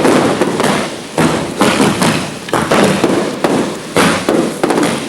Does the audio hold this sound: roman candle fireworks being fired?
yes